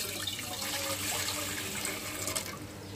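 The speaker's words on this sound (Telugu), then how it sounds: "ఇంక దాంట్లో ఇంక వాటర్ పోసుకున్నాను." Water runs steadily into a steel pot set on a gas stove, a continuous splashing rush that fills the whole moment with no talk over it.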